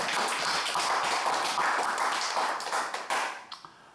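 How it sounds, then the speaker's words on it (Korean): A church congregation at Sunday worship claps together in a loud, even run of rhythmic hand claps that fades out over the last second with a few scattered final claps. "박수 한 번 더 신나게 해주십니다."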